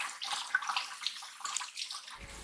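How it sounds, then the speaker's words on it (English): Lettuce rinsed under a running kitchen tap, a steady hiss of water broken by light splashing as the leaves are handled, with a low thump near the end and no voices. "We'll grab some lettuce and wash them."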